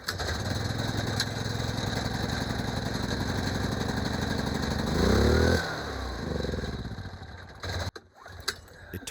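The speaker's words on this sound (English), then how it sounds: "Our generator, which we've been running off of for 9 months, has been acting funny for the last couple weeks." A generator that has run for months on an off-grid Alaska homestead, with a failing carburetor, drones steadily and loudly close by, then its pitch surges and lurches unevenly before the engine stumbles and cuts out near the end.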